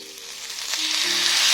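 Rice flour chilla batter hits a hot pan, and a soft hiss quickly swells into a steady, bright sizzle that grows louder, with a faint tonal hum underneath.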